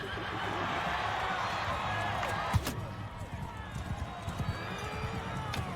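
Horses gallop in a battle in Mount & Blade 2: Bannerlord, with rapid hoofbeats thudding under a busy game soundscape and a voice talking over it, one sharp impact standing out.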